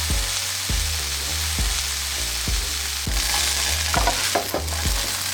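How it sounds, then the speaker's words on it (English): Bell peppers fry in a sauté pan with a steady sizzle, broken by a regular series of scraping stirs about every 0.6 seconds and a few clattering knocks near the end. Nobody speaks. "bell peppers frying in"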